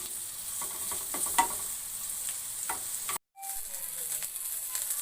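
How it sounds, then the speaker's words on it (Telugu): Onions frying with bay leaves in a pan, a soft continuous sizzle with scattered light crackles and utensil taps, cut by a brief silent gap before the sizzle resumes. "ఆనియన్స్ బాగా ఫ్రై అయినాయి"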